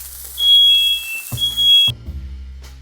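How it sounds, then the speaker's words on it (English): A home smoke detector, set off by burger patties cooking over high heat in a kitchen, sounds a steady piercing electronic tone that stops abruptly after about a second and a half, followed by kitchen clatter and sizzling. "I set off the smoke detector in my house because I was cooking burger too hard."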